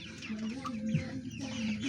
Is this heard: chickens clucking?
yes